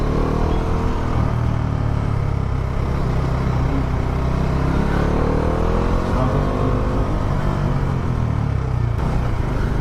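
A Bajaj Dominar motorcycle runs steadily at close range, a loud continuous engine rumble and whir with slight pitch changes, carrying a small rattle from the visor, and no talking.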